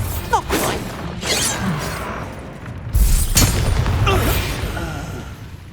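Bombarda blasting spell in Hogwarts Legacy, heavy booming blasts with crashing debris and whooshes, two or three loud impacts spread across a busy combat scene, the biggest one hitting about halfway through.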